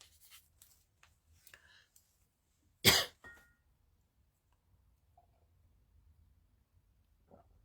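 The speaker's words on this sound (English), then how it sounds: "Notice the coughing." A single sharp cough lands near the middle of an otherwise quiet stretch, loud and close, with only faint rustles and small clicks scattered before and after.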